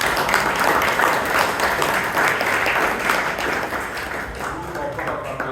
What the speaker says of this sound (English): Please give Robinson sir another big round of applause.